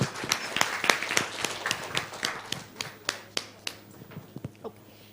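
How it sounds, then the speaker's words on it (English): A small group claps in a meeting room, a sparse, uneven patter of separate hand claps that thins out and fades over a few seconds. "Let's clap."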